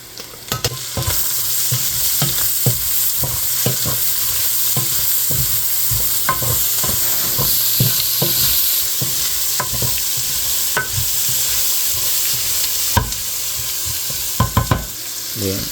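Onion frying in rendered bacon fat for seafood chowder gives a loud, continuous sizzle, broken by regular scraping strokes of a stirring spoon across the pan all the way through.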